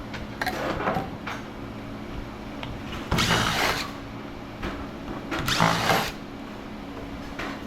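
Short bursts of an impact drill whirring and rattling, with sharp knocks as the back of the drill is struck while it drives, loud and close against a quiet background.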